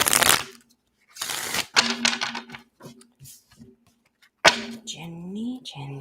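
Tarot cards riffled and shuffled by hand in short crisp bursts, a few separate rounds of papery flutter and snapping, with a voice speaking near the end.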